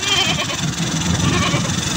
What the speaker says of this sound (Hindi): ये बकरी हमने लोड कर ली है, साथ 2 छोटे छोटे बच्चे भी लिए हैं।